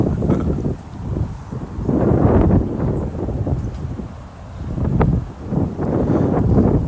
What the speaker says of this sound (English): The wind is blowing so good